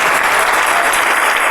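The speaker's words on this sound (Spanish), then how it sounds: "Dele palmas al Rey en esta noche." A church congregation claps for the King during an evening service, loud, dense and continuous applause filling the room close up with no voices above it.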